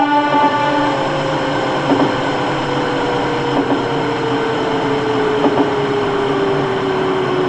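A 201 series electric train pulls into a station on the Keihin-Tohoku Line in the Densha de GO! Professional game, with a steady motor whine that slowly falls in pitch as it brakes and a few faint rail clicks beneath.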